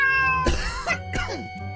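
A Minecraft cat meows twice in quick succession, close and clear, amid background game sounds.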